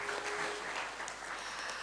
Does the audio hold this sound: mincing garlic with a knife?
no